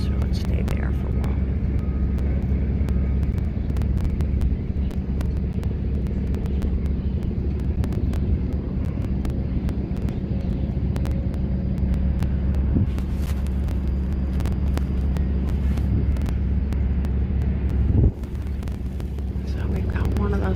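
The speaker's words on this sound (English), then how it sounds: "So we've got one of those little propeller planes up there again tonight." A small propeller plane drones steadily overhead at sunset, a continuous low rumble with some wind noise throughout, and a person talks over it.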